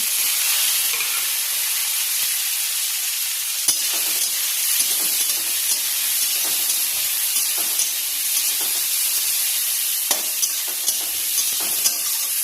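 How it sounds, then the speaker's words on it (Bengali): Chopped tomato, onion and green chilli fry in a pan with a loud, steady hiss of hot oil and occasional small pops and spatters, heard close up without any voices. "এগুলিকে খুব সুন্দর করে লাল লাল করে ভেজে নেব।"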